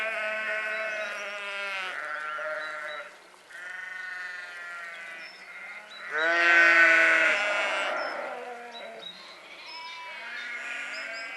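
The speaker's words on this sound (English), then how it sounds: "This is a field of noisy sheep." Several sheep in a field near Mordiford in the Wye Valley bleat loudly and repeatedly, overlapping calls from a nearby flock with a brief lull before a louder burst.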